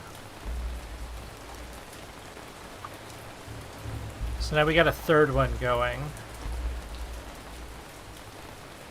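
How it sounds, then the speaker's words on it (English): Rain falls in the city-building video game Ancient Cities, a steady even patter throughout. Someone talks briefly over it midway. "Oh, it's raining."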